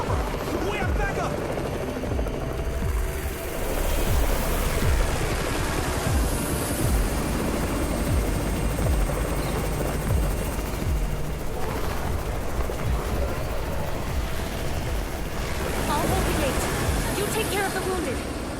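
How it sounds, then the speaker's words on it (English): A helicopter's rotor chops loudly over a dense battle din in the video game Undawn, with scattered gunfire and muffled voices mixed in throughout. "It's the Raven's chopper! We have backup!"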